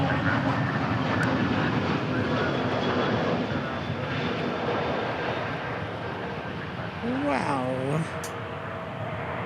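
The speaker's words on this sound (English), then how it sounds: "A321 Neo next." An Airbus A321neo passes at DFW Airport, its broad engine roar steady and loud throughout, with a voice briefly exclaiming near the end.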